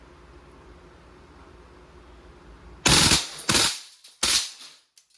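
A Crosman AK1 blowback airgun fires on full automatic in three loud, sharp bursts of rapid shots, the first two close together and the last after a brief pause.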